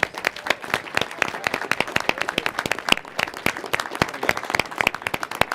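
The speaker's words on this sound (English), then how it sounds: "So big round of applause for Oxford Space Systems." Dense crowd applause with sharp individual claps standing out rings through an evening space-technology event at the Space Symposium in Colorado Springs, sustained and lively throughout.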